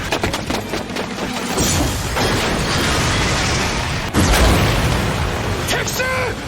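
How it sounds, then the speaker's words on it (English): A loud explosion rumbles into a long roaring burst of noise, followed by a second heavy boom, with faint voices near the end. "an explosion suddenly happened"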